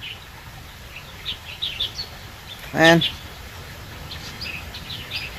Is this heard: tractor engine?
no